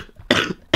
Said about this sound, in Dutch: Zo'n hele droge, koude hoest.